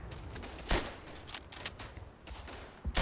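Carbine gunfire in the World War I shooter Verdun, a few sharp separate shots at about 0.7 s, 1.6 s and 2.9 s, fairly faint and spaced apart, with no voices over them.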